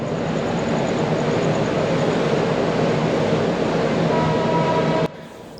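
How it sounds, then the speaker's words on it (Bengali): A train rolling on rails makes a loud, steady rumble and clatter that stops abruptly near the end, and nobody speaks. "ট্রেন আবার ছেড়ে দিয়েছে।"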